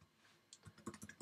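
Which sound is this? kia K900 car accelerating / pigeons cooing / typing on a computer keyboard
typing on a computer keyboard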